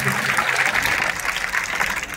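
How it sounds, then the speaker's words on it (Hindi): An audience at an award ceremony honouring top matriculation exam students gives a short, vigorous burst of applause, dense and continuous from start to finish. "मनोज सर जी के नाम पे एक बार पुनः जोरदार ताली"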